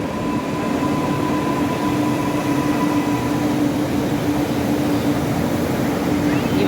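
A Chennai Metro train with Alstom-built coaches pulls into the platform with a loud, steady rumble and a constant electric hum, close by and unbroken.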